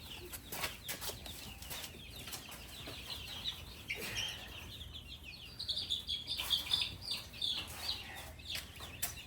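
Backyard chickens, including Wyandotte and Buff Orpington, flap their wings in short rustling bursts among quiet clucks and chirps, heard at a moderate distance.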